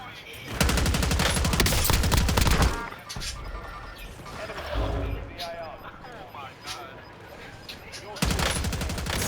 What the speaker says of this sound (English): I'm shooting before I even see him, and I'm shooting without aiming